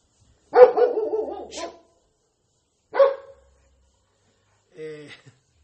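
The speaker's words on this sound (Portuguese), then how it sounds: "Só faltam os cachorrinhos aí começarem a latir, que tem filhotes aí também" A dog barks in a few separate bursts with long pauses between, clear and fairly close, ending in a short higher-pitched yelp.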